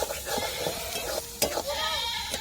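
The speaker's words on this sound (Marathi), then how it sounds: "व्यवस्थित अशी परतून घेते" Spiced vegetable curry with fresh coriander is sautéed in a pan: a soft sizzle runs under short stirring scrapes, while bleat-like animal calls sound in the background.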